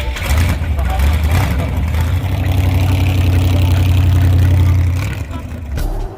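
A 1934 Ford rat rod's engine rumbles loud and close on the road, a deep steady drone that swells and then eases off, with voices over it.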